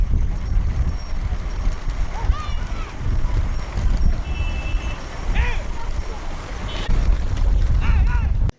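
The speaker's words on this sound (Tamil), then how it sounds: "சிவகங்கை போக்குவரத்து கழக பணிமனை முன்பு உள்ள தொண்டி சாலையில் பாஜகவினர் சார்பில் மாட்டுவண்டி பந்தயம் நடைபெற்றது" A bullock cart race on the Thondi road in Sivaganga, with 68 pairs of bulls, fills the scene with continuous clattering hooves and rumbling carts, along with shouting voices and crowd noise throughout.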